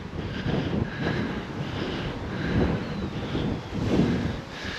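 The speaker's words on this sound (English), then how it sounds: "This wind." Steady wind gusting across an open hilltop with wind farms in the distance, a continuous broadband rush rising and falling in loudness, with no voices.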